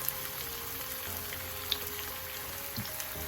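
Green plantain slices frying in hot oil for tostones, a steady soft crackling sizzle with scattered pops, close and continuous with no talking.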